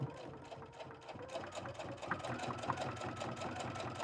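A sewing machine stitches fabric guided along the edge of its presser foot, giving a steady, fast mechanical whir with a rapid rhythmic needle pulse, close and continuous with no talk.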